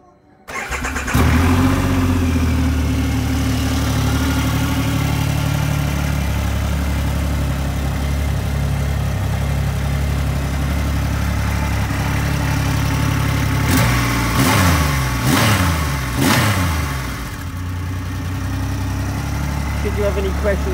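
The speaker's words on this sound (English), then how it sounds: "And the bike sounds absolutely fantastic." Triumph Rocket 3 GT motorcycle engine catches and settles into a deep, loud, steady rumble close by, with a few sharp throttle blips near the end before it drops back to idle.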